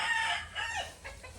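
Fighting roosters being prepared for an upcoming fight crow and cluck in overlapping calls, one drawn-out crow followed by shorter fainter ones, moderately loud and alone.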